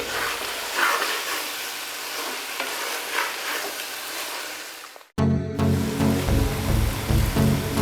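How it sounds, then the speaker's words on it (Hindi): Okra frying in a hot pan for a Bhindi ka salan sizzles loudly while being stirred, with scraping and bubbling; a sharp cut leads into a louder, deeper sizzle. "1-2 मिनट के लिए हम बस भूनेंगे"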